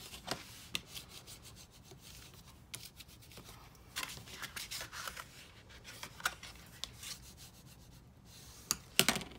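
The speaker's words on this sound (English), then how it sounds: "Now on the 2 outside lines, score lines, you're going to fold up." Scored cardstock for a greeting card is folded by hand: soft rubbing and scraping with scattered sharp creases and taps, quiet and close, with no talk.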